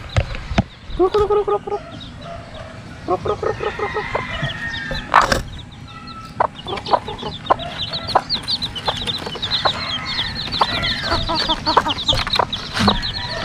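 Chicks and chickens in a backyard, with repeated clucking and cheeping calls, some rhythmic clucks and higher chirps, close by over a faint outdoor background.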